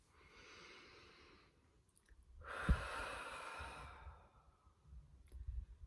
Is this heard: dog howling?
no